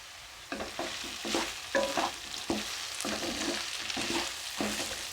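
A potato and carrot curry fries in a pan while a spoon stirs it, a steady soft sizzle under repeated scraping strokes at a regular pace, close and moderately quiet.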